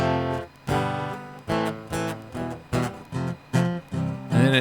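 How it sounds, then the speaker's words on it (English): Acoustic guitar picked up by a piezo pickup with a room impulse response applied: a series of strummed chords, about eight distinct strokes each ringing briefly before the next, close and fairly loud, with no talking. "you're listening to a real acoustic guitar in a room"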